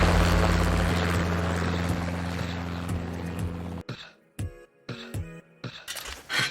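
A helicopter's rotor drones steadily and loudly for several seconds, then cuts off, leaving brief scattered sounds.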